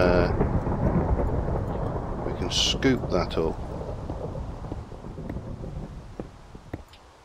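Video game rainstorm with rumbling thunder and steady rain hiss, loud at first and fading slowly, with a person talking briefly over it.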